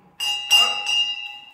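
A bell is rung by hand three times in quick succession, each clear metallic strike ringing out with a sustained tone that fades after the last hit.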